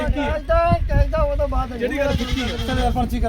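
A goat bleating at a weekly goat market in Punjab, several wavering cries in quick succession close by, heard amid people talking.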